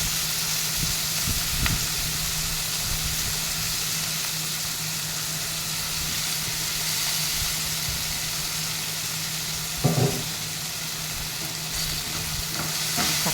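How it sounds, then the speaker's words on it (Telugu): Raw plantain pieces frying in a small amount of oil give a steady, close sizzle and crackle throughout, with a brief louder spatter near the end. "ఆయిల్ కూడా చూడండి చాలా తక్కువ వేసాను అయిపోనండి అరటికాయ కొంచెం ముందు వేసుకుంటున్నాను"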